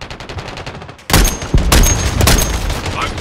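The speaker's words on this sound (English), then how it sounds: "I'm taking fire!" Gunfire in the Call of Duty Modern Warfare 3 video game: a loud burst of close automatic shots erupts after a quieter stretch of distant firing, with dense overlapping reports continuing to the end.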